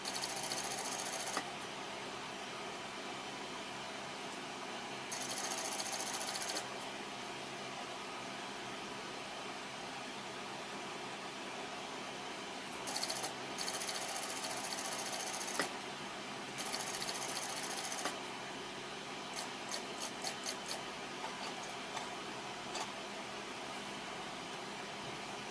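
A sewing machine stitches Christmas napkins with a continuous rapid hum, its speed shifting in short spurts and pauses over about twenty-five seconds, close and steady.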